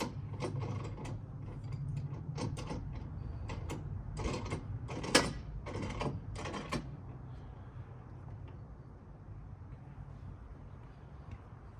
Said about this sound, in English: Still have to snug up the bolts holding the risers on